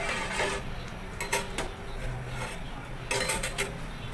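A spoon stirring and mixing a buko pandan mixture in a cooking pot, with scattered metallic scrapes and clinks against the pot, a few sharper taps clustered together, over a steady background hiss.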